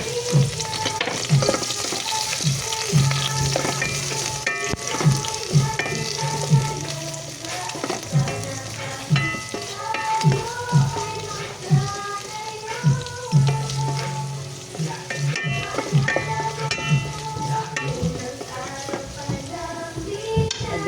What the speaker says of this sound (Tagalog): lagay na po natin ang ating hipon shrimp